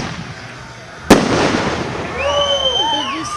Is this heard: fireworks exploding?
yes